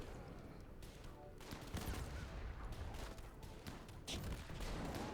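Gunfire in the RimWorld colony game: faint, rapid volleys of small shots crackle again and again through the whole stretch, with bursts overlapping in a busy skirmish.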